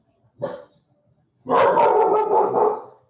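A dog indoors lets out a short bark, then after a pause a longer, louder burst of barking and yipping, close to the microphone with no talking.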